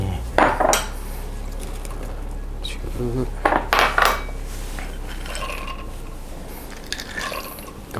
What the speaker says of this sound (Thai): ผมจะทำการเติมน้ำก่อนนะ ต่อมาใส่วัตถุดิบลงไปในโถปั่นนะครับ